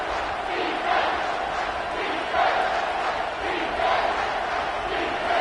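College football stadium crowd roaring steadily as the home defense pins the opponent deep, a broad sustained wash of cheering with surges, under faint commentary.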